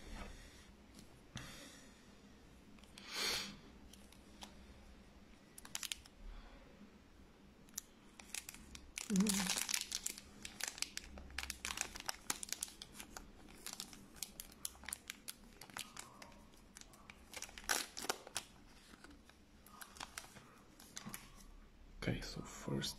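A Yu-Gi-Oh Maximum Gold foil card pack is torn open and handled close up, with sharp crinkling and ripping bursts and shuffling card rustles between quieter stretches, a voice speaking faintly at times.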